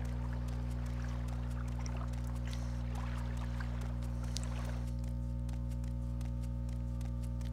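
Water in Morrowind runs and sloshes as a steady, close flow over a loud, constant low hum. It trickles and splashes in the first half, then thins out.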